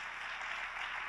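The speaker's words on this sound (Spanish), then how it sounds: "Démosle un aplauso al Señor Jesús." A church congregation applauding during a Spanish-language service, a brief soft patter of many hands clapping, fairly distant and even.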